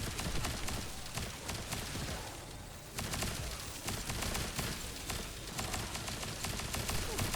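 Voltia, the ultimate weapon in the video game The First Descendant, hip-fired in long continuous bursts of rapid gunfire, loud and dense, with a brief lull near the three-second mark before firing resumes.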